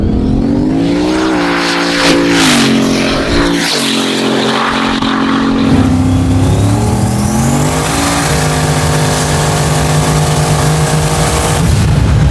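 A 1,500-horsepower big-turbo Volvo wagon accelerates hard in second gear, its engine roaring loud and continuous with the pitch climbing steadily, heard from inside the car.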